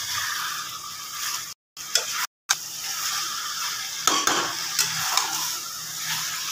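Meat sautéing in a pan gives off a steady close sizzle, with occasional scraping stirs and clinks of the utensil against the pan.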